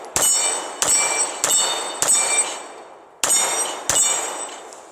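Several sharp 9mm pistol shots from an M&P C.O.R.E. ring off a steel target, each a bright metallic clang with a decaying ring, fired in an irregular rhythm, loud and close with no talking.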